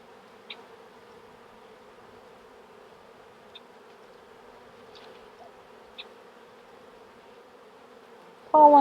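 Honey bees drone steadily around an opened hive during a check of four colonies, a low continuous buzz with a few soft knocks and a loud rustle at the very end.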